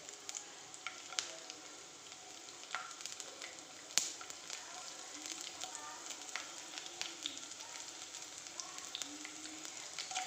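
Mustard seeds, garlic and a dried chilli crackle and sizzle in hot oil in a pan, giving a continuous frying hiss with scattered pops and spits, fairly close and steady.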